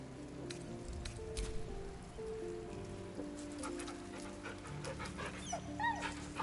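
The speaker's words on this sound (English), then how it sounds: "Dog wags his tail, a small bag clenched." A dog in the video game Baldur's Gate 3 pants and snuffles close by, with soft bursts of movement over a steady layer of rain-like ambient noise and faint background tones; no voices.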